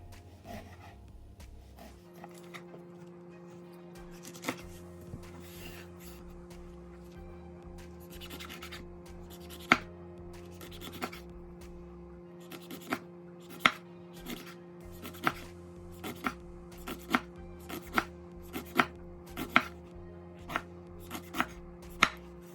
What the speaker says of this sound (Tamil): அவ்வளோ சூப்பராக குறிஞ்சாயில எல்லாம் வெட்டி எடுத்தாச்சு